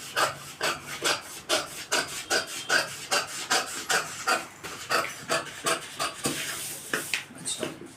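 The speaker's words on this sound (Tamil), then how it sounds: "இப்போ இங்கே வந்து அழகாக வெட்டிடுவோம்." Scissors snip through chudithar pant fabric in a close, steady rhythm of rasping cuts, roughly two strokes per second, with no talk over them.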